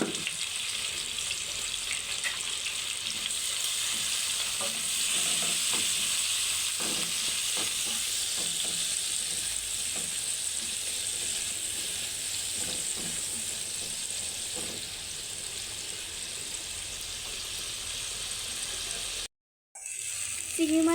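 Shrimp seasoned with salt and turmeric frying in a pan, giving a steady, close sizzle with occasional stirring clicks throughout, then a brief dropout near the end before the sizzle resumes.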